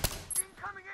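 Gunfire from Medal of Honor Warfighter online multiplayer, a sharp shot up front and a second burst shortly after, close and loud, followed by quieter game ambience.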